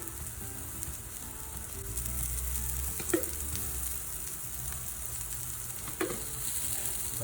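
Mutton shami kebabs fry in ghee on a pan, a soft continuous sizzle close by with two brief sharper crackles or scrapes partway through and no talking.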